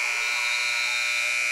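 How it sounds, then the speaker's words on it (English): A loud, steady electronic buzzer sounds in a school basketball gym at a regional game, a single harsh sustained blast filling the whole moment with no talk over it. "I think that was after the buzzer"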